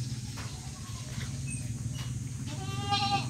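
Thin goats on a farm bleat in short nasal calls, one near and loud at the end, over a steady low rumble of background noise.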